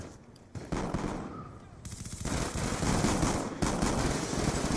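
Rapid, loud automatic gunfire from an FAL rifle during a video game firefight, dense bursts of shots close up with a brief lull before resuming, mixed with game sounds.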